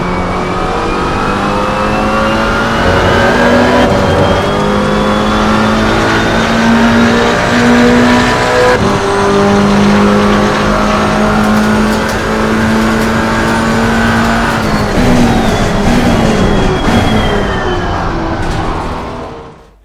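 A GT4 race car engine in the video game Assetto Corsa Competizione roars loudly and continuously, revving up and down through repeated gear changes, with occasional tire squeal toward the end.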